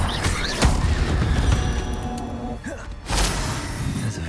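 An Incendio fire spell cast in the video game Hogwarts Legacy: loud crackling bursts and thuds with a sharp hit early and another burst near the end, over busy game noise.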